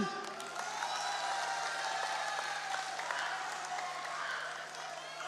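A crowd applauds steadily at a volunteers' declaration rally for Prabowo and Gibran, a dense wash of clapping with faint voices mixed in, continuing at an even level throughout.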